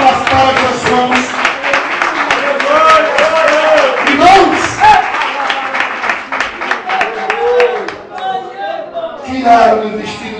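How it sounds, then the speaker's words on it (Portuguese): A church congregation claps for Jesus during a sermon on the crucifixion, a loud, fairly rhythmic clapping that runs for about ten seconds with a preacher's voice and other voices mixed in. "Pode bater palmas para Jesus."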